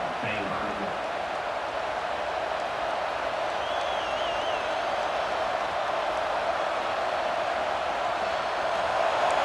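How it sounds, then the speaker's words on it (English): A home crowd at a football game roars in a steady, broad wash of cheering and applause, heard from a distance and sustained throughout, with a faint whistle partway through. "this home crowd is fired up and ready to make a difference today"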